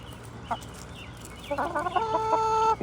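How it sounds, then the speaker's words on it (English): A big rooster and other chickens peck at a juicy tomato in a farmyard, giving soft scattered clucks early on, then a louder run of close, sustained clucking and crowing-like calls. "Look at that big rooster."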